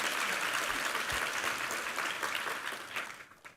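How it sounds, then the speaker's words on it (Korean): A church congregation breaks into sustained applause after a sermon reading, a dense, even wash of clapping that holds steady and then fades out near the end. "우리 하나님께 감사와 영광의 박수 올려드리겠습니다"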